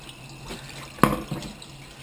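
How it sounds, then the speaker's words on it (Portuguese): Water from a tap runs and splashes while a dirty cleaning cloth is washed during a Volkswagen Golf restoration, with short splashy bursts and a sharper slosh near the middle, fairly quiet and without talk. "Eu só tenho que lavar esse pano aqui. Porque ele tá nojento já."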